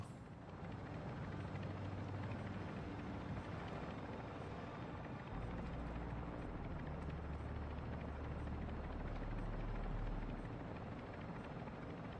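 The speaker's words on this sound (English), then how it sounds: "attack helo is moving in your direction" An attack helicopter in the video game Call of Duty DMZ closes in as a loud, steady rotor rumble and whine that deepens and swells in the second half, with no talking.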